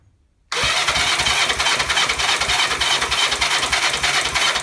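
A BSA Fury SS motorcycle engine with the choke on and ignition on: after a brief silence it cuts in abruptly with a loud, dense, continuous roar that holds steady for about four seconds.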